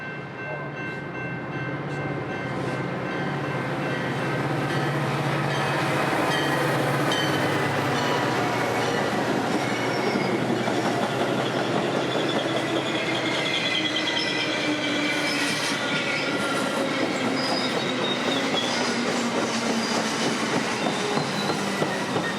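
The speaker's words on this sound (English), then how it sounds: "westbound 1221, led by one of many F40 PHs still painted in Metro's original blue paint scheme from the 90s" Westbound Metra express train in Chicago, led by an F40PH locomotive in the original blue paint, passing at track speed with a loud, sustained roar of wheels and rail noise lasting the whole time.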